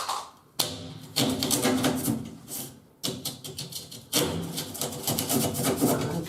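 Handsaw cutting through a plastic bath waste pipe section in three bursts of rapid rasping strokes, separated by short pauses, close and loud with no speech.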